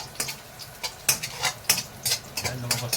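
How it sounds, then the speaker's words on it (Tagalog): Ginger sautéing in a pan for Dong Tao chicken tinola, with a soft sizzle under repeated spatula stirs and scrapes in an irregular rhythm, close by. "Luya daw muna ang unang igisa bago ang bawang"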